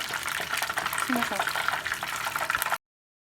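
Battered fish frying in hot oil gives a steady bubbling hiss close up, continuous for a few seconds before cutting off, with a voice speaking over it.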